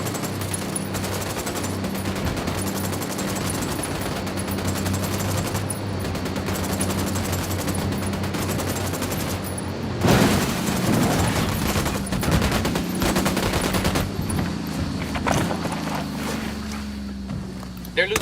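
Rapid machine gun fire rattles on in a PS5 shooter, dense continuous bursts that grow louder partway through, mixed with wind noise and voices talking over the gunfire.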